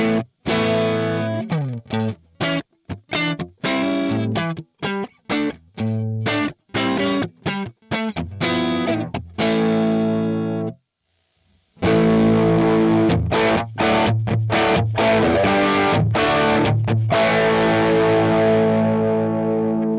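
Electric guitar run through a Hotone Ampero Stomp multi-effects unit with delay and reverb, loud and distorted: choppy staccato chords with short gaps, a brief silence, then sustained ringing chords with echoing tails.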